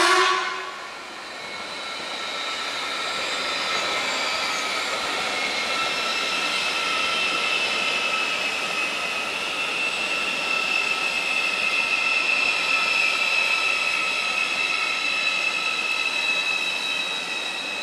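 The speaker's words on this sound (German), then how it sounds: "Einfahrt ICE 4 Richtung München." An ICE 4 high-speed train pulls into Augsburg Hbf toward Munich, a loud, steady rolling rumble with high wheel and brake squeal holding for well over fifteen seconds, with no voices.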